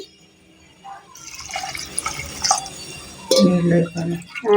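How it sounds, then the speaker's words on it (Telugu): Water pours in short bursts into a cooking pot for khichdi, splashing and filling at close range, with talking across and between the pours. "నాలుగు కప్పులు నీళ్ళు అయితే పోతుంది"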